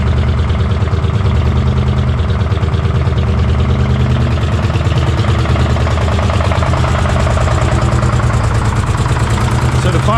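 An old engine, just started after warming by fire and smoking, idles in a steady, loud, low rumble with a rhythmic chug throughout and no talk over it.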